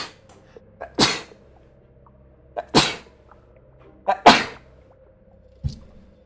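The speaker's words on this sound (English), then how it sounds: "like the sneeze I'm about to have." Several loud sneezes burst out in quick succession, some preceded by a sharp inhale, each brief and close with quiet pauses between.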